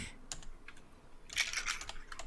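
Keys clatter on a computer keyboard in quick, irregular bursts, with a denser flurry of clicking partway through, close and moderately loud against a faint room hiss.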